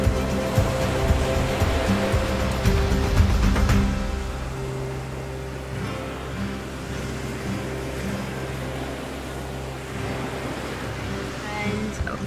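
Waves wash onto a beach on Kangaroo Island, South Australia, a broad roar of surf that is heavier at first and then eases into a softer rush, with faint low engine hum underneath.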